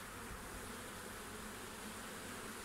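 A wild bee swarm gathered on the front wall of a hive in August, giving a steady, dense buzzing hum that fills the whole stretch evenly and close by, with no voices.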